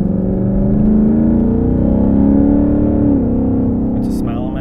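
A Ford Mustang S550 with an AWE Touring cat-back exhaust and active exhaust holds a deep, loud, steady rumble close by, the engine note rising slightly midway before easing off.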